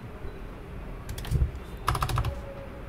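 Keys clatter on a computer keyboard as code is typed, two short quick bursts of clicks close by over a quiet room hum.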